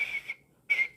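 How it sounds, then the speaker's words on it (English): A whistle gives two short, shrill blasts separated by a brief pause, loud and close with nothing else around it. "I blow the whistle."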